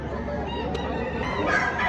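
A gamefowl rooster crows and clucks close by at a market in Padre Garcia, Philippines, loud and drawn out, over a faint farmyard background.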